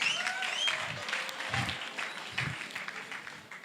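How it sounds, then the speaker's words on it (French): An audience applauds a gospel group performing Congolese rumba in a competition round, a steady wash of clapping that stays full and continuous from start to finish with no voices over it. "je veux nous prier, nous tous, de les encourager avec des applaudissements"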